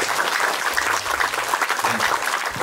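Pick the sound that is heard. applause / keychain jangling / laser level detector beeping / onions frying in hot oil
applause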